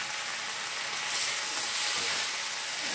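Chopped tomatoes and onions sizzling in hot oil over a high flame for a sweet-and-sour cabbage sabzi, a steady, close, bright crackling hiss with no talk.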